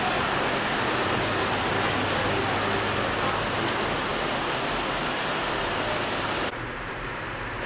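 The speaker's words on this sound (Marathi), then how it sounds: "पाऊस पण पडतो." Evening rain pours steadily, a loud, dense, unbroken hiss of drops that fills the whole stretch and eases slightly near the end, with no voices.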